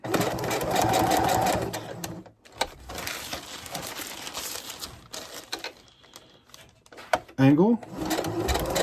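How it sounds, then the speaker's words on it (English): A sewing machine lock-stitches kite fabric while making a kite arch, running in short bursts that start and stop, with a person talking between and over the stitching. "I come in here and I'm just going to do a little lock stitch"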